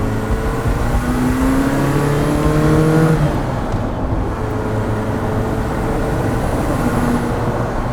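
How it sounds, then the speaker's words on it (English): A 1985 Ferrari 288 GTO accelerating with its turbo spooling, a loud steady engine drone with rising whistling tones, heard close from inside the cabin. "start to hear the turbo spool"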